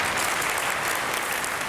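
Dense, loud applause from a studio audience fills a game show stage, steady and unbroken throughout with no voices over it.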